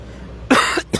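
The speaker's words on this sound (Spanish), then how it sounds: "Todavía traemos esta tosecita" Two sharp, close coughs in quick succession, the first harsher and longer, the second short, loud against a quiet background.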